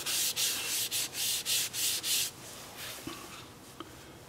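Rhythmic scratchy rubbing of 400-grit sandpaper on a textured alder wood bowl, about eight strokes in steady succession, then a quieter rough scrape with a couple of small taps.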